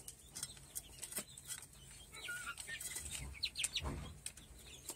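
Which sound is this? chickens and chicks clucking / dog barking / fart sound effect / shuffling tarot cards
chickens and chicks clucking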